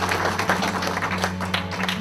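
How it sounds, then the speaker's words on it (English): Graduating students clap for themselves at a graduation ceremony, a short burst of scattered clapping over a steady low hum in the room. "Please give yourselves a round of applause for all the hard work."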